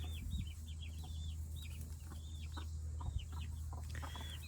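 Backyard chickens cluck and chatter in quick repeated calls near their coop at dusk, fairly faint over a low steady hum.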